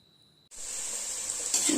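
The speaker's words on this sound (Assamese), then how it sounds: "এতিয়া মিঠাতেলখিনি গৰম হোৱাত তাত মই দি লৈছোঁ হাঁহৰ মাংসৰ আঞ্জাত দিবলগীয়া আলুখিনি" Potatoes drop into hot mustard oil for a duck curry and burst into a sudden loud sizzle after a quiet start, the hissing holding steady and swelling slightly near the end.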